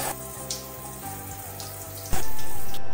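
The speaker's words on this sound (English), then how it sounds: "Even as I pour consistent water over it" Water poured steadily over a suction hook splashes and hisses like a running tap, continuous throughout and growing much louder near the end as the flow strikes harder.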